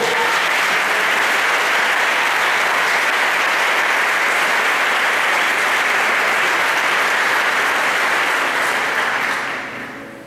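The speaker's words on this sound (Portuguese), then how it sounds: "Se você quer, aplauda Ele, por favor." Loud, sustained applause from a large church congregation during a service filling the space, steady throughout before tapering off at the end.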